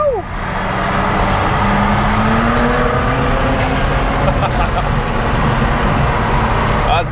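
A BMW M2 on a race track at a Euroday event roars loudly and steadily, its engine note rising and holding close by, with traffic-like road noise and people talking underneath.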